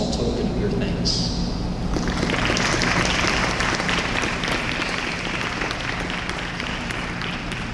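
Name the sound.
audience applause at commissioning ceremony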